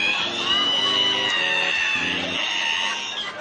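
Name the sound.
voice imitating a squeaky ironing board being opened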